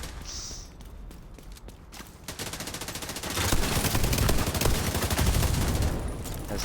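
Rapid bursts of automatic rifle fire in The Division 2, building from scattered shots into sustained loud volleys with dense, repeated cracks and no talking.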